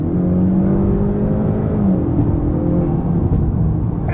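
A 2021 Honda Accord Sport 2.0T with a stage 3 tune and resonator muffler delete, heard from inside as a loud, steady engine and exhaust drone that eases slightly as the car slows, with no talk.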